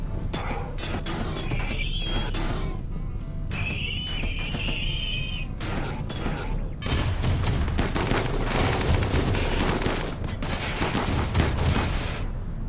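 Gunfire in the RimWorld video game, sounding as loud, dense bursts of shots and volleys that roll on continuously in a busy battle mix.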